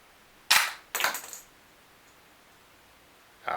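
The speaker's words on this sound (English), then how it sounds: "So when I fire, the only thing that should come out is the shell casing should fly out." An HK USP toy pistol fires with sharp snapping cracks, two close shots in quick succession and another at the end, each ejecting a plastic shell casing, crisp and near in an otherwise quiet room.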